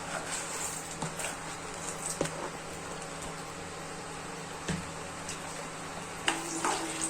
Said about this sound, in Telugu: తర్వాత కొంచెం శనగపప్పు కూడా బాగా ఫ్రై చేసుకుందాం.